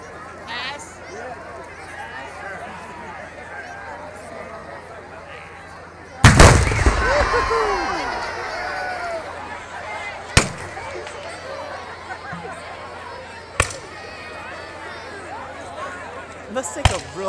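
Muskets firing at the Kings Mountain battle reenactment: one loud, booming blast followed by a rumbling tail, then several sharper, quieter distant reports spaced seconds apart, with people talking nearby.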